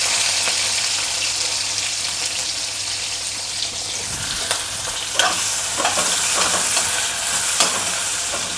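Tomatoes fry in a pan with a loud, steady sizzle, broken by intermittent scraping and clattering stirs up close.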